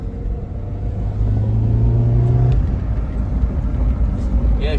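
A car engine idles with a steady low rumble after being flooded on a rainy day, briefly rising in pitch as it revs, then settling into a rough, loud hum up close, with voices talking over it.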